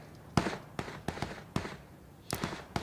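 Gunfire in the video game PUBG during a first-person squad tournament match, five or six sharp separate shots spaced irregularly, fairly close and crisp, with no talk over them.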